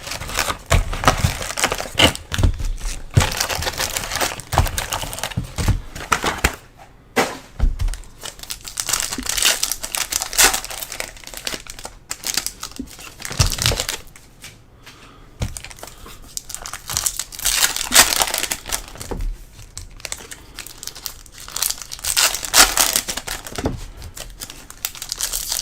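Foil wrappers of 2023 Topps Cosmic Chrome baseball card packs being torn open and crumpled, loud continuous crinkling and rustling up close with a couple of brief pauses, no talking.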